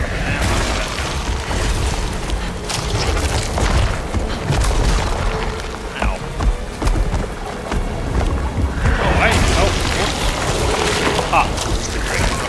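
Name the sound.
gunshots fired in the video game Alone in the Dark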